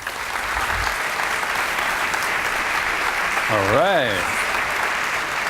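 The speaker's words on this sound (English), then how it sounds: "Please give a big round of applause for Mr." Sustained applause from a conference audience at an agile conference in Serbia fills the room steadily and loudly, with a voice speaking briefly over the clapping.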